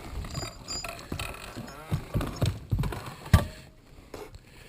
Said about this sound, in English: So we're going to pull the trolling motor up.